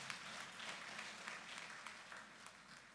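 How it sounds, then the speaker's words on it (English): Applause from the audience for the DG at a graduation lecture of an executive intelligence management course: dense, sustained clapping throughout, fairly faint and distant, with no talk. "Please, can we give the DG a round of applause?"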